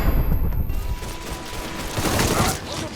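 Bursts of gunfire from the video game Mafia 3 crackle loudly in a dense fusillade, fading somewhat midway and then swelling again, with voices faintly mixed into the battle.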